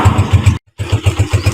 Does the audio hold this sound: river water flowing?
no